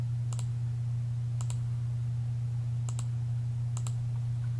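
A computer mouse clicks while working in CAD software: four quick double clicks, sparse and faint, over a steady low electrical hum.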